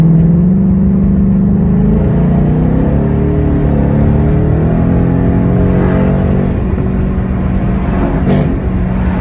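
A 2019 Mustang GT accelerates hard, its loud engine note heard from inside the car as a sustained roar that rises in pitch as the revs build.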